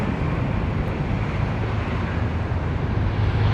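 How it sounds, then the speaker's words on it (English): An airplane comes in to land near the Toronto waterfront on a hot June day, a steady, distant roar heard from a moving bicycle amid continuous wind rush on the microphone. "Sounds like a plane landing."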